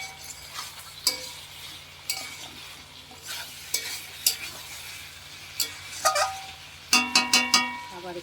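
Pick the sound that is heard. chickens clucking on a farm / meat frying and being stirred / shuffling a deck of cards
meat frying and being stirred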